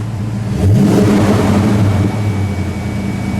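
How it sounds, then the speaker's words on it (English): A 1992 Ford Mustang SAAC Mk I with a 5.0 liter V8 revs up sharply from a steady idle, the engine note swelling into a sustained loud roar that holds for several seconds, close by with no talking. "Bob, let's give it a rev."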